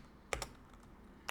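A few quick keystrokes on a computer keyboard, a close pair of clicks followed by a lone tap, entering a flashrom command to read a chip through a CH341A SPI programmer on a ThinkPad T440p.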